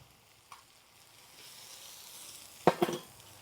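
Semolina tipped into a pan of cooked tomato and milk for upma produces a soft, low sizzle that swells gradually, then a sharp clatter of utensil against pan near the end.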